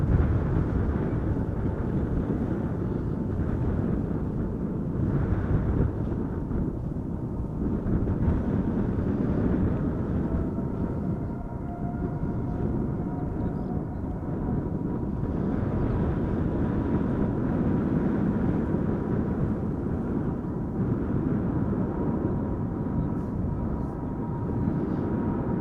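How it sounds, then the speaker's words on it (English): A KLM Boeing 777 jet, registration PH-BVA in Orange Pride livery, approaches Schiphol Airport as a steady, loud low roar of engines that holds throughout, mixed with gusty wind buffeting the microphone. "I think I can hear it already. PH BVA KLM 777 Orange Pride."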